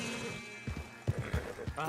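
A horse named Cerberus clip-clopping in Red Dead Redemption 2, a few soft hoofbeats under a voice talking.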